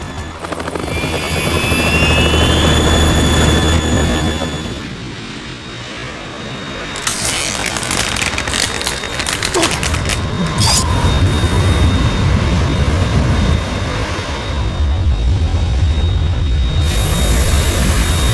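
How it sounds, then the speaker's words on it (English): Harrier jet in the Metal Gear Solid 2 video game, a loud, continuous roaring engine with a rotor-like throb and whine, punctuated by sharp bursts and blasts, close and dominant. "We're in trouble. It's the Harrier."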